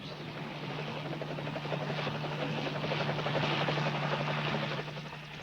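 A helicopter hovers nearby, its rotor chopping steadily with a constant engine whine, loud and continuous throughout.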